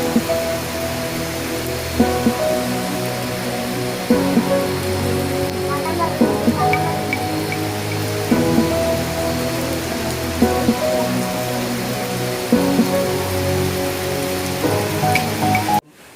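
Steady rain falls across the whole stretch in Kerala, a dense continuous patter with occasional louder drops, close and even in level, with no talk over it.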